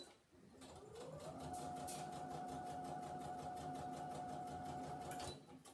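A sewing machine runs steadily for about five seconds while stitching the edging of a fabric Christmas wreath. The whirring motor and rapid needle clatter are close and continuous, then stop abruptly.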